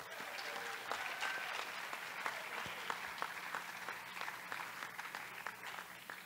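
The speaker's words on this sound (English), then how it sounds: "Let's give all of the incubator students one more round of applause." An audience claps for students at a school pitch night, a steady wash of many hands from a crowd at moderate distance, sustained throughout without cheering or talk.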